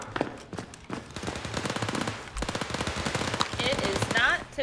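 Pistol gunfire in The Walking Dead zombie video game comes as a rapid, loud string of close shots, repeating almost without pause through the whole stretch.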